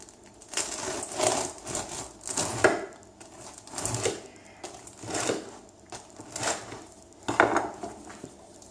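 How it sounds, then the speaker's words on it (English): A knife sawing through a crusty sourdough loaf baked in a commercial deck oven, with repeated rough scraping and crunching strokes in uneven bursts, close and clear, with no talking. "Let's cut one more slice."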